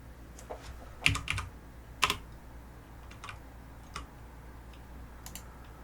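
A detailed address is typed in a food-delivery app, sounding as sparse, faint tapping keystrokes, with a couple of sharper clicks and quiet gaps between them.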